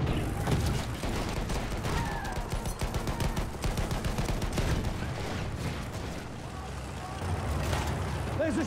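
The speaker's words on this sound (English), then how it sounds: "There's a machine gun!" Machine gun fire rattles through a Battlefield 1 battle in rapid, repeated bursts that mix with other gunshots, vehicle rumble and shouted voices over several seconds.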